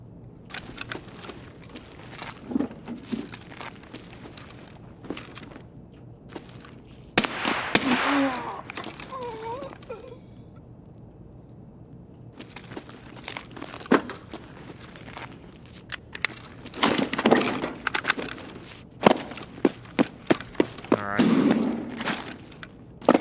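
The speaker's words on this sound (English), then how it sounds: "Somebody's working with their SVD." Sniper rifle fire from an SVD in the video game Escape from Tarkov: several sharp, distant cracks in separate clusters, heard over soft footsteps and quiet ambience.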